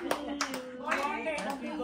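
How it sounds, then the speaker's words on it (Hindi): A few people clap at home to congratulate on the arrival of a baby boy: a handful of scattered, close claps in a small room, with voices talking over them. "चलो ताली बजाओ ताली बजाओ"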